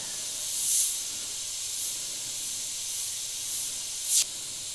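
Iwata HP BS Eclipse airbrush spraying fine paint dots, a steady close hiss of air with several short, brighter spurts of spray, the last one the sharpest, and no talking.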